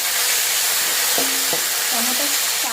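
Medium-sized tomato frying in a pan for a moong dal sambar: a steady, loud, dense sizzle throughout, with a few faint tonal clinks partway through.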